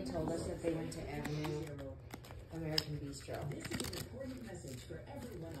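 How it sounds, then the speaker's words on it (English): A deck of playing cards being shuffled by hand during a magic trick, soft riffling and flicking throughout, close, under steady conversational talk. "You can shuffle the deck any way you want."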